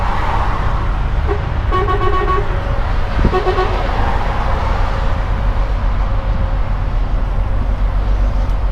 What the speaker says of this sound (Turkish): Şimdi ona korna basmadan geçmeyelim Hasan abiye